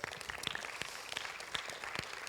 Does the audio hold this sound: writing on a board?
no